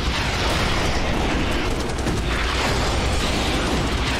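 Grenade explosions in the video game Starship Troopers: Terran Command, a dense, loud, continuous roar of blasts and rumbling booms with no pauses.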